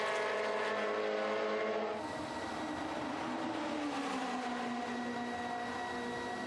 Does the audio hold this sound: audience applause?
no